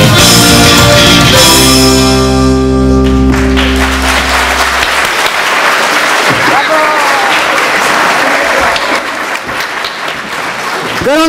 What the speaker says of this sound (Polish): Gorące brawa, proszę Państwa